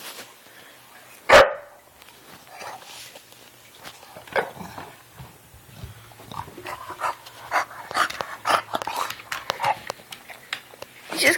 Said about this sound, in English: You gonna bark from over there?